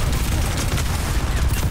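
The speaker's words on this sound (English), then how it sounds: "I'm shot by Mauga, Mauga one." Mauga's rapid gunfire in Overwatch 2 on the Dorado map comes as a dense, loud, continuous barrage of shots that fills the short span without a break.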